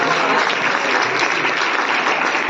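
Loud, dense clapping from a group of children at a teacher's birthday celebration, steady and close for the whole stretch with no talk over it.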